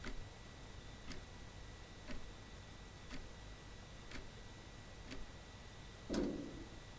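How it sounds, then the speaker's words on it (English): Mysterious ticking in a video game after a lever is pulled with three statues in place: faint, steady ticks about once per second over a low ambient hum, ending in a slightly louder muffled knock. "when you pull this with all three of them on there, get that mysterious ticking noise"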